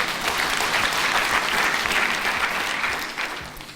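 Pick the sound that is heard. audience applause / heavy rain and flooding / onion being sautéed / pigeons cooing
audience applause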